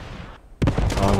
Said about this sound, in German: Ich glaub, uns jetzt haut die Artillerie.